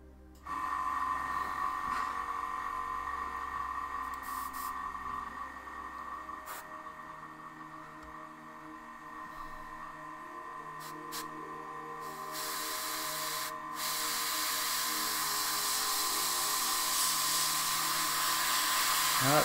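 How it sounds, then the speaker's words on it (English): An airbrush sprays paint onto a 1/35 Takom Pz.I Ausf A model tank with a steady, close, high hiss and a compressor hum, its pitch shifting slightly and growing louder toward the end, with no talking. "just chuck a bit in the old airbrush"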